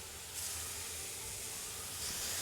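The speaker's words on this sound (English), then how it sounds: "Ooh, you see that sizzle?" Food sizzles on a hot griddle, a soft, steady hiss that swells slightly partway through, faint and continuous with no talking.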